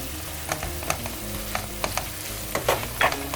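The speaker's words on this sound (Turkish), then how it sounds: "Havuçlarımı beraber de biraz kavuracağım" Minced meat and chopped carrots sauté in a hot pan for lasagne, a steady sizzle broken by repeated scraping stir strokes of a spoon against the pan, close and clear with no talking.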